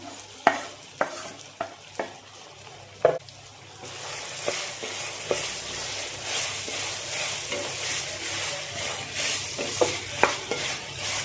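Sliced onions sautéing with chili paste in a pan: sharp spatula knocks at first, then a sudden louder sizzle as the onions go in, with steady stirring scrapes over it, close and clear, with no voices.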